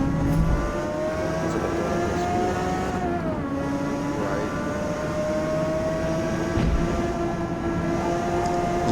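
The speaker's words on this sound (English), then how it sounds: "I can't even hear myself over this car." A race car engine roars steadily in Forza Motorsport, a loud continuous drone with shifting pitch sweeps as gears change, heard alone without talk.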